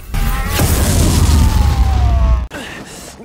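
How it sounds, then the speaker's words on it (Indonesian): A spirit gun blast fired into the mouth of the demon Goki in a Yu Yu Hakusho anime scene: a loud booming burst with a ringing, descending tone, then a sudden cutoff and a softer tail. "Dia berhasil menembakkan pistol roh ke mulut Goki."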